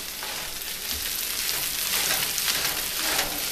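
Fried rice with mushrooms, lettuce and eggs sizzles loudly in a hot pan while being constantly stirred with two plastic rice scoopers, a dense steady hiss with faint scraping throughout and no talking.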